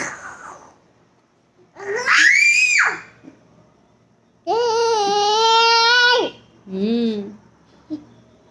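Someone shouts loudly at home, three strong high-pitched bursts separated by short quiet gaps, the middle one held longest and a brief yelp at the end.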